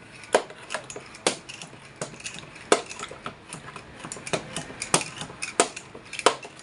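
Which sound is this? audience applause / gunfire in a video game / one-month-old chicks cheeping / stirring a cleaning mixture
stirring a cleaning mixture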